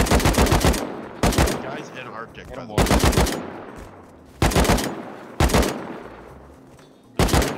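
Rapid bursts of automatic gunfire from the survival video game Rust, loud, close and repeating in several sharp volleys over a few seconds, with brief speech between the bursts.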